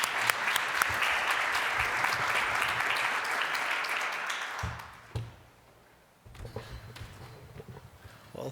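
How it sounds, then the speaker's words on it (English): Dense audience applause at a public talk on food and sustainability, steady for about four and a half seconds before fading into a quieter room with scattered shuffles and faint noises. "Please join me in a round of applause."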